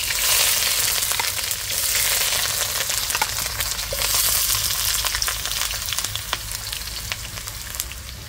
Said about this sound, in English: this is some carpoli or the curry leaf, fry up in that first